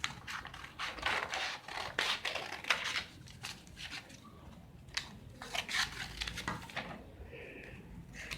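Scissors cutting out a fabric sleeve pattern, a steady series of close crisp snips and rustling fabric throughout, no talk.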